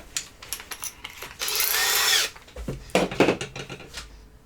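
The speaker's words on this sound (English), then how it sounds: "so we need to drill here" A power drill whirs steadily for about a second, surrounded by clattering tool and wood handling noises close by.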